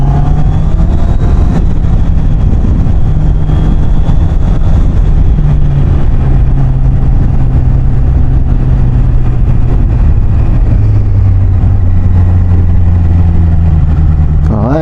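A filming motorcycle follows a car on an open road, its engine a loud, constant drone with shifting pitch and heavy wind rush throughout, recorded close from the bike.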